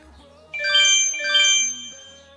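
A phone notification chime sounds close by in an art studio: two bright, ringing tonal swells, each about half a second long, rise over quiet background tones, with no speech.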